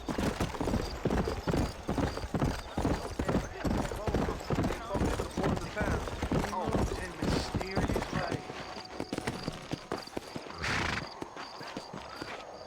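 A horse gallops in the Western video game Red Dead Redemption, with a steady, loud, rhythmic clip-clop of hooves running throughout and a voice speaking over parts of it.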